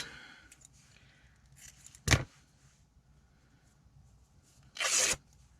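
Two short, crisp snips of scissors cutting through fabric for junk journal tabs, separated by quiet rustling, close and distinct.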